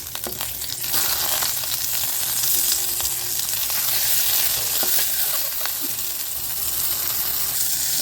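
Whole tomatoes sautéing in hot oil in a pan for a spicy kara chutney, a steady close sizzle and crackle with occasional stirring scrapes, no voices.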